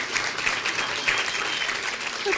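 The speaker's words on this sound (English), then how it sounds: "So let's give her a round of applause." Audience applause at a poetry reading and awards ceremony, a dense steady patter of many hands clapping indoors for about two seconds, moderately loud with no voices over it.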